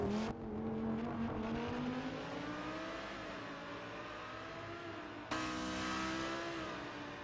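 An Audi race car engine heard from onboard in a racing video game at Circuit of the Americas, holding a steady high whine that climbs and falls through the gears, with a sharp shift partway through.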